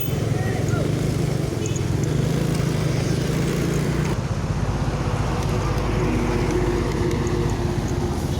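Dense roadway traffic in a late-afternoon jam, a newer MPM bus among the vehicles, with continuous engine drone and a steady low rumble; a voice talks over the noise throughout.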